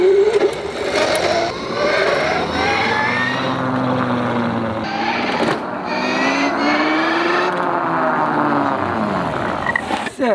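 A homemade electric ATV conversion drives close by. Its motor whine rises and falls in pitch with each speed change, with tire and ground noise throughout and no speech.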